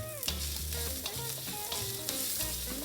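Ginger, garlic and dried chili fry in a pan for a South Indian chutney while being stirred, giving a steady close sizzle with occasional scraping strokes beneath a tonal music bed.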